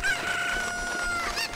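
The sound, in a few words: cucco chicken clucking in Zelda Ocarina of Time Master Quest video game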